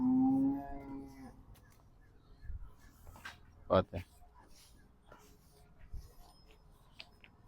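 A dairy cow on a farm lets out a loud, close moo at the start, followed by quieter rustling and scattered knocks.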